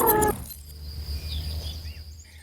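A loud, brassy sarus crane call bursts out at the start, then gives way to faint high chirps and whistles over a low background rumble.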